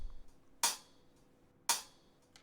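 Two crisp hi-hat hits about a second apart, each trailing off into a short reverberant tail, with near-silence between them.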